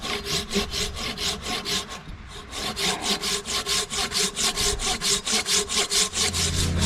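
A handsaw cuts wood while a pool is built by a lake, making a loud, steady back-and-forth rasp of about three strokes a second. The rhythm pauses briefly, then resumes, with no talking.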